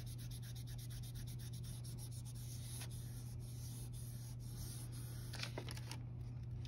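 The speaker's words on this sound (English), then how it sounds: "give this a gentle burnish before I do it, just to make sure it's stuck together" Polymer clay being gently burnished by hand, a soft, steady, faint rubbing with light repeated strokes close by, no voices.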